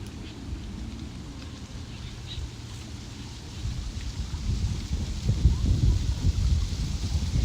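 Wind gusting at a riverbank, a steady low rumbling roar that strengthens in the second half, close to the microphone with no other clear sounds.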